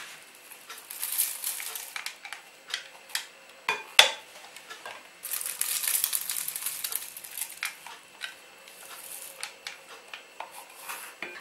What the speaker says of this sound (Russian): Таким же образом передавлю и творог.